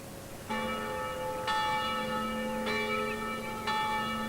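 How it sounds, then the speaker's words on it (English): A nearby church bell tolls alone, four clear rich strikes about a second apart, each ringing on with a sustained hum between blows. "The bell in the nearby church began to toll."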